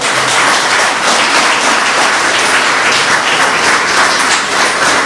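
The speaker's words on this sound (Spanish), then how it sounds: "dele palmas al Señor" A church congregation applauds the Lord during a Spanish-language sermon, a loud, dense, continuous wash of many hands clapping that holds steady for the whole stretch with no voices breaking through.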